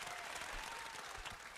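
Audience applause fills the whole short stretch as a steady wash of crowd clapping with no voices over it.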